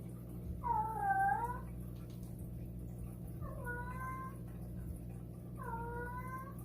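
Three drawn-out, wavering cat yowls rise and fall in pitch, the first loudest and the others somewhat softer, spaced a couple of seconds apart over a steady low background hum.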